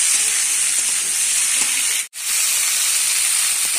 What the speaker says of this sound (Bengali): মিনিট 3 এগুলো ভেজে নিচ্ছি।